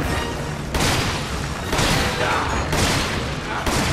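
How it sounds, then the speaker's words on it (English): Rockets and heavy weapons fire in Resident Evil 5 co-op, a sustained loud barrage of booming blasts with several sharp bursts roughly every second over constant noisy combat. "Did you fire your rocket at him too?"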